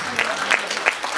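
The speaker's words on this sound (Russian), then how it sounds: "Бурные аплодисменты" Brief applause from an audience at a Pro Plan event stage announcement, a second of dense clapping with a few sharper claps standing out.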